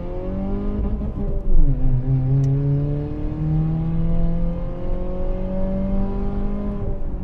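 A budget-trim Lada Vesta drives steadily from inside the cabin, its engine droning and shifting pitch as it accelerates, with a brief thump partway through and no talking.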